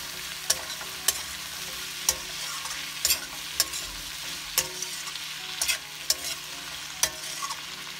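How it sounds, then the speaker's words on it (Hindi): Potatoes are stirred into capsicum in a frying pan: a quiet steady sizzle is broken by repeated sharp scrapes and clacks of a spoon against the pan at an irregular pace, close up and with no voices. "अब हम आलू डालेंगे अच्छे से मिक्स करेंगे"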